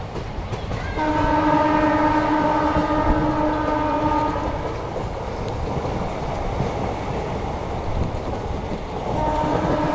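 A Rajkot–Porbandar local passenger train rumbles along the rails, its horn sounding a loud, sustained blast for a few seconds before fading into steady wheel noise, with a shorter horn note returning at the end.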